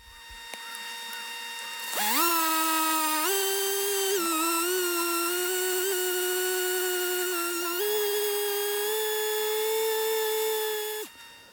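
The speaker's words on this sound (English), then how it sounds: "The random orbit sander with a super soft interface pad makes quick work of the transition line." A random orbit sander fitted with a super soft interface pad, sanding through a transition line with a 3inONE finish, starting up with a rising whine and then running as a steady, strong tonal hum with slight pitch shifts before stopping abruptly.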